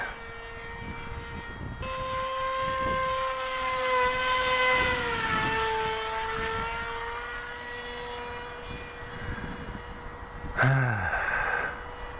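A blunt-nose Teksumo RC flying wing comes in to land, its steady motor whine held throughout with a pitch sweep midway, then a sharp swoop and a burst of noise near the end as it touches down.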